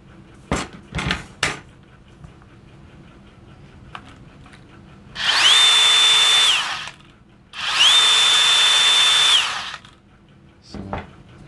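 A cordless DeWalt DCS571N mini circular saw on a 2 amp battery runs twice in sustained high-pitched whirring bursts, each about two seconds, with scattered handling clicks and knocks before and after.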